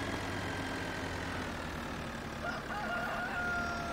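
Farm-game chickens cluck steadily under a low engine-like hum, and a rooster crows clearly toward the end; nobody speaks.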